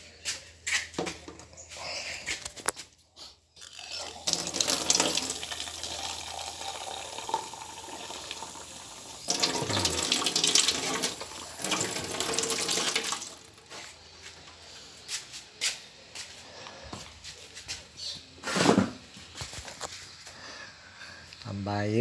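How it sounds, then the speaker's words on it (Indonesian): Water running from a tap into a container, a bursting, splashing flow that comes and goes across the stretch, near and moderately loud, with a person speaking at points. "tambah air."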